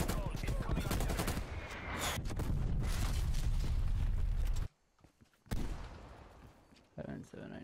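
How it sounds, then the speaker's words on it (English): Incoming artillery and rapid gunfire in Call of Duty Cold War, with dense, loud blasts and crackling shots. The barrage cuts to near silence midway, then bursts of fire resume. "Artillery targeting detected. Control, incoming artillery."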